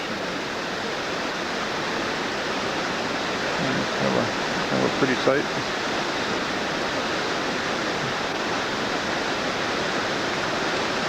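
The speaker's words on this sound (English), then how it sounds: "Avalanche Creek here at this point comes roaring down from between the rocks." Avalanche Creek in Glacier National Park roaring down between rocks and moss-covered boulders under a bridge, a steady loud broadband rush of whitewater with a brief spoken remark in the middle.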